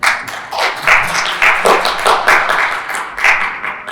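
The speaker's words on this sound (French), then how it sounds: "On l'applaudit s'il vous plaît." Audience applause at an international accessible tourism conference, a few close, uneven hand claps in a pulsing rhythm rather than a dense crowd roar, with no speech.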